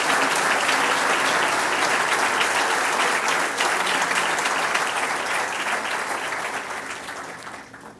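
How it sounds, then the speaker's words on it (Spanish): Sustained audience applause fills an auditorium at a scholarship ceremony, a dense, loud crowd of clapping that gradually fades toward the end. "Un aplauso para estos jóvenes."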